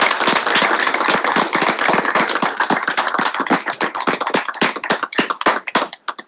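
Applause from a Senate session audience, starting as dense clapping and thinning into fewer, distinct individual claps that taper off at the end.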